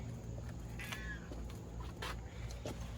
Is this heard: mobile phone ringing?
no